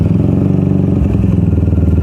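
A Benelli 251S motorcycle engine idling just after starting, a loud, close, steady throbbing rumble with faint mechanical clatter and no speech.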